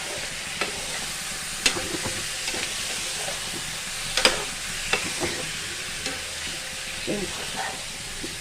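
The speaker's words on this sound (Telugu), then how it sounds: "దీంట్లో వేసేసి ఒక్కసారి మంచిగా కలుపుదామండి" Chicken masala is stirred in a pan, with a continuous soft sizzle and frying hiss and scattered scraping clicks from the spoon, fairly quiet and with no talking.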